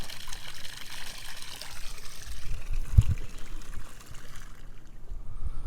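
Water being pumped out of a boat livewell through a hose, a steady splashing trickle and gurgle running continuously at moderate level, with no voices.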